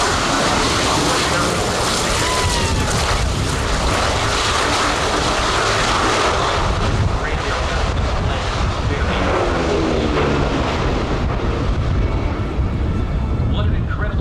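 A P-38 warbird flies past a DC-6 at the EAA AirVenture Oshkosh airshow, its engine drone a broad outdoor roar blended with heavy wind buffeting and commentators talking over it.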